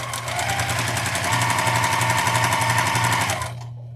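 A sewing machine stitching through quilt fabric for a fat quarter quilt runs at a fast, steady, close-up rhythmic whir for about three and a half seconds before abruptly stopping into near silence.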